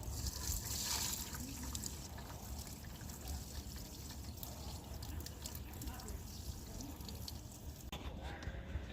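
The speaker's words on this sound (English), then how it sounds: "I'm going to dump my beautiful chemical all over this to give it nice and hardened here" Liquid hardening chemical pours over a fossil ammonite sitting in a bucket, a continuous faint trickling and splashing stream that runs steadily for several seconds and fades out near the end.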